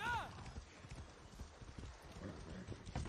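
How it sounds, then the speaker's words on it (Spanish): Horse hooves clip-clop rapidly in a galloping rhythm in the game Far Cry 6, close and steady, with a brief whinny at the start. "Vamos a coger este caballo de momento, porque no veo coches por la zona."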